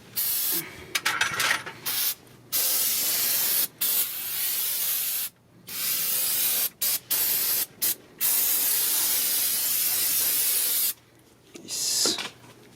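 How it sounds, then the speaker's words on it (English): Aerosol spray hisses in a series of short and longer bursts onto brake pad hardware during a front brake pad replacement on a 2019 Honda Odyssey, loud and close, with brief silent gaps between sprays. "Spray it."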